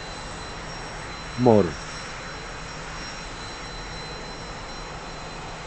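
A T-45 jet engine in the DCS flight simulator holds a steady, even roar throughout, with a brief spoken word partway through.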